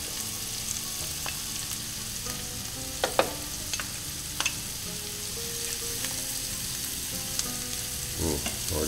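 Garlic sizzles in a hot pan alongside chicken, a steady frying hiss with a few sharp utensil clicks and scrapes as it is stirred, moderately close with no talking.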